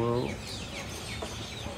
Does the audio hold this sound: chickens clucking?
yes